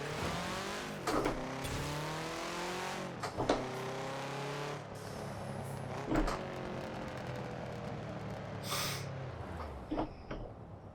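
A car engine in the Forza racing game revs near 2,000 RPM as the clutch is slowly released, several rising and falling engine sweeps with brief gear-change bursts, clear and without talk.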